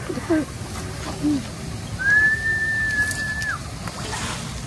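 A single sustained whistle, steady and fairly clear, rises briefly then holds for about a second and a half over a quiet outdoor background with faint water sounds.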